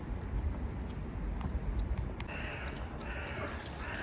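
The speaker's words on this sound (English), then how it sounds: "you can hear the birds now, crazy birds" Birds call noisily over a steady outdoor hum in Moscow, with brief sharp cries scattered through a busy background.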